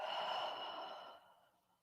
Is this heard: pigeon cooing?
no